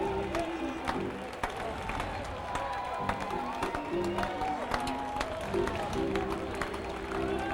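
Baseball crowd at a Columbus versus Omaha minor-league game in 1988 clapping and cheering steadily throughout, a broad wash of applause with scattered sharper claps and faint voices mixed in at a distance.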